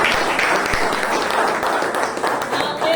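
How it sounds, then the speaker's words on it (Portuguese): Congregation clapping hands during a church prayer service, a steady dense patter of many palms filling the room, with a voice speaking over it. "Bate palma e dá glória"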